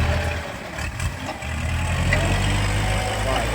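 Tractor engine running steadily while tilling a flooded rice paddy to prepare the soil for planting glutinous rice, a low continuous drone with rough mechanical texture, fairly close and loud throughout.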